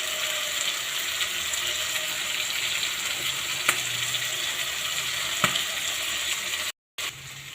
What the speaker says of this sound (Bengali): আমার মাংসটা লাল লাল করে ভাজা হয়ে গেছে।